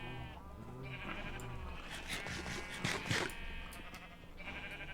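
Several sheep bleat in a Minecraft game, a few wavering calls rising over a steady low background, one louder cluster in the middle.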